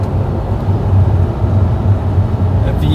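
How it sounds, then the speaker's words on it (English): A V8 car engine drones loudly with a deep, pulsing low rumble that swells and holds steady under acceleration. "The V8 sounds so good"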